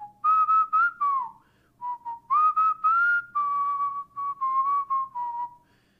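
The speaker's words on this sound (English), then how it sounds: "he has never stopped whistling" A person whistles a lively melody, close and clear, with quick repeated notes and sliding pitches and no talking.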